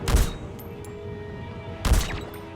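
Two loud gunshots ring out about two seconds apart in Metal Gear Solid V: The Phantom Pain, each a sharp close blast with a short ringing tail over quiet game ambience.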